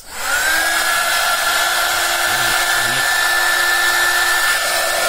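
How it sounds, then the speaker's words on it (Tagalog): A heat gun blower runs steadily and loudly throughout, a constant whirring roar with a high whine, starting up right at the beginning. "Gumagana po yung heat gun blower natin"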